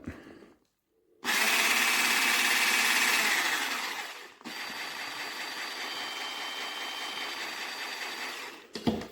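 Braun MultiQuick 5 hand blender fitted with a new attachment starts with a loud, steady high-pitched motor whine, dips briefly, then runs on at a slightly lower level before cutting off.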